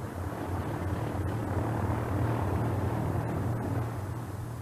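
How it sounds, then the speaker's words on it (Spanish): A de Havilland Mosquito, a wooden propeller-driven aircraft, flies overhead as a steady, broad engine roar and drone that stays at an even level throughout with no voices. "Uno de los primeros de estos aviones invisibles al radar fue el de Havilland Mosquito"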